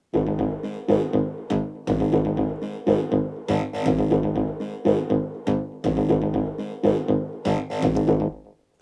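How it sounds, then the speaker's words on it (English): A calypso bass line plays alone from a studio mix, its punchy notes pulsing in a steady, bouncing groove for several bars before stopping. "So all the bass line sounds like this."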